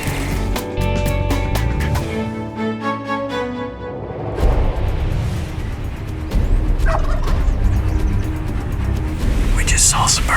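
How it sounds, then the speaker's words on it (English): A wild turkey gobbles repeatedly in a cut cornfield with other birds nearby. The calls come in rapid rattling bursts, fairly close and loud, and someone talks quietly in between and over them. "Man alive, what a nice turkey and a pretty one"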